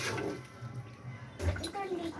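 Water poured into a pan of Odia-style chicken curry, a soft splashing, bubbling wash, fairly close and moderate in level, with a second surge of pouring partway through.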